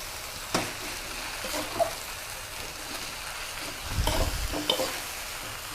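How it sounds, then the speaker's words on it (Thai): Carrots, bean sprouts and tofu stir-fried in a pan for vegetarian pad see ew give a steady near sizzle, with clattering stirs and scrapes, a louder spatula burst around the middle. "แล้วก็อันนี้ค่ะ เต้าหู้ค่ะ ใส่ลงไปนะคะคลุกเคล้าค่ะ"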